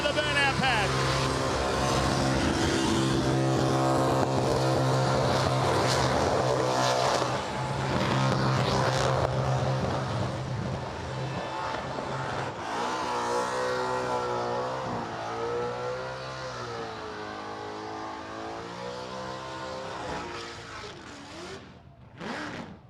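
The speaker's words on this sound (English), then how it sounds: "Time to light the back tyres up and send it into the burnout pad." A modified street car at the Summernats burnout pad rumbles at idle, then revs hard with rising and falling engine tones for a long sustained burnout, loud and close, with crowd and commentary mixed under it.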